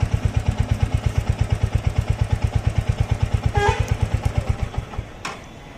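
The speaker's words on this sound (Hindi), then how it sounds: "और यहाँ से आप इसके इंजन के नोट को सुन सकते हो" Close up, a 2023 Royal Enfield Hunter 350 engine idles with a steady mechanical clatter and rhythmic pulsing before cutting out near the end; a brief click follows.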